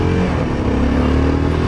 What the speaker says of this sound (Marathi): आता थोडं मीला हिला फर्स्ट टाइम चालवतोय बाईक